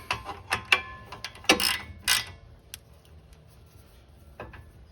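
A ratchet turns a brake caliper bolt on the front brakes of a Honda Fit, giving a series of close, sharp mechanical clicks in short bursts that trail off into quiet.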